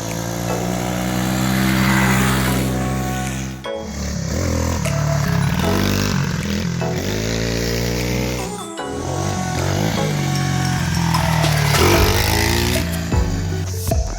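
A pit bike engine revs hard during wheelies, a loud, buzzing mid-pitched drone rising and falling in long pulls, with brief drops between bursts, close and dominant.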